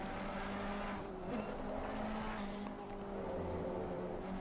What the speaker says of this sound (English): Ferrari versus Porsche.